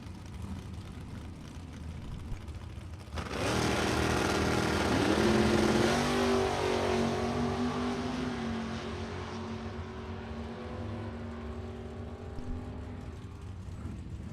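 A 1972 Corvette and a 1977 Monza launch in a drag race; after quiet idling, loud engines suddenly roar and rise in pitch, then fade into the distance as the cars pull away down the strip.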